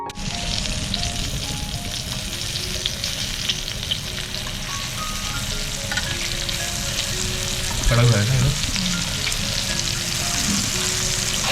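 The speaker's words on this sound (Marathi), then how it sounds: "खूप रवा तांदूळ असं मिक्स करून मीठ वगैरे फ्राय करतोय" Fish pieces coated with rava and rice flour fry in hot oil with a steady, close sizzle and crackle, and occasional stirring or turning noises partway through.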